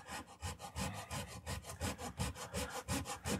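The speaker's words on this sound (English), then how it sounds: "So I'm going to come in with my hacksaw first" A hacksaw cuts through cardboard lattice scenery on a model railroad layout in quick, steady back-and-forth strokes, close and rasping, with roughly four strokes a second and no voices.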